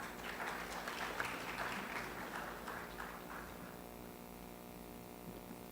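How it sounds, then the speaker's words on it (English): Faint, distant applause from a room of people, fading out under a steady electrical hum. "Let's have a big round of applause"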